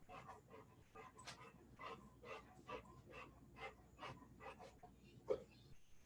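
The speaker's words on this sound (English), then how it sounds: "If you're hearing some heavy breathing, my dog, big golden retriever, just came up." A large golden retriever pants heavily close by, a steady run of quick rhythmic breaths repeating throughout with no talking.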